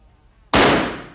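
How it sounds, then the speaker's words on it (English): A single sudden loud bang from a hydrogen explosion in a science demonstration, cracking out of near silence and fading over about half a second. "That is what I call an explosion, right?"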